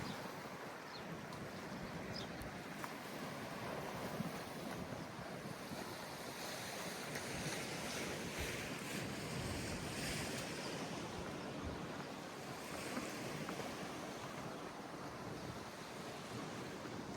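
Steady sea surf washing near Kuwait Towers with a boat out on the water, a continuous broadband rush of waves overlaid with gusty wind buffeting the microphone; no talking.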